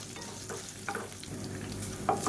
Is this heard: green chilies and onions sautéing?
yes